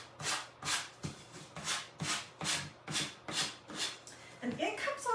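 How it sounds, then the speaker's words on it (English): A wooden stir stick has its edges sanded with sandpaper by hand, giving eight steady back-and-forth rasping strokes, close and fairly quiet, with a short bit of talk at the end. "And it comes off pretty good just using the sandpaper."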